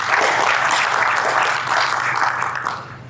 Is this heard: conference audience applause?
yes